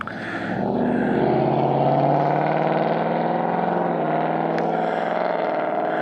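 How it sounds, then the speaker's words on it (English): A noisy car passes close by on a mountain road, heard from a motorcycle rider's position with steady engine and wind roar throughout, a brief sharper burst near the end. "Had to let that noisy car get by."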